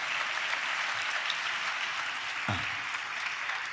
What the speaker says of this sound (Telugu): చప్పట్లు కొట్టి యేసయ్యకు స్తోత్రాలు చెప్దాం